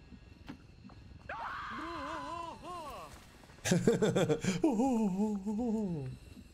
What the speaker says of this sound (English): What is it about these resistance members and civilians that they are so scary that they provoke a Wilhelm scream?